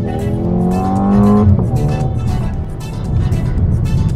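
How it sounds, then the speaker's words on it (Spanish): A Mercedes AMG GLA35 launches hard under launch control, the engine revving high before the tyres grip, then surging away with a rising roar and a brief chirp of tyre noise, loud and close. "Y así de fácil se hace un launch control en la GLA35 y prácticamente en cualquier AMG."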